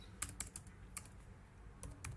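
Keys clatter on a computer keyboard in short bursts of close, crisp taps, with irregular pauses between clusters of keystrokes in a quiet room.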